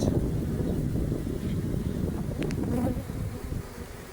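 A dense, steady buzz of honeybees fanning at a swarm trap, close and loud, with a breath of wind on the microphone.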